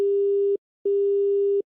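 Telephone busy tone after a call is hung up: two loud, steady beeps with a short silent gap between them, clear and alone.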